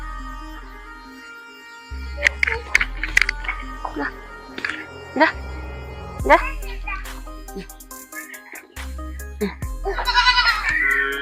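Goats bleat repeatedly at close range, their wavering cries overlapping with a voice and people talking nearby.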